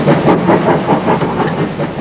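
A 1400 class steam tank locomotive chuffs past close by, running round at a station in 1959, with rhythmic puffs and clanking over a hissing rumble.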